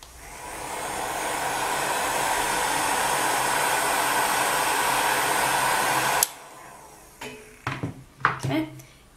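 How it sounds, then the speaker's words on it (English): A heat gun roars steadily for about six seconds while setting alcohol inks on a polymer clay bead, then cuts off abruptly, followed by light clinks and handling sounds. "Then you need to set those alcohol inks with your heat gun."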